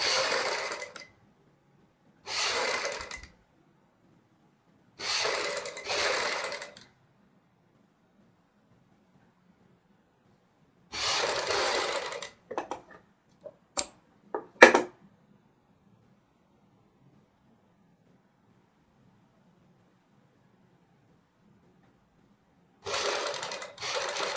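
A sewing machine stitches a neck design in several short bursts separated by silence, then gives a few quick clicks and a final burst, each run a rapid close mechanical chatter.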